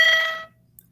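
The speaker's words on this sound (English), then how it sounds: "That was the middle school bell." A middle school electronic bell rings a bright, piercing tone for about half a second, then cuts off into near silence.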